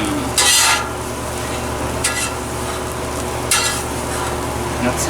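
A T-bone steak sizzles on a hot grill, a steady, loud, close hiss of frying fat with a few brief flaring bursts on top and no voices.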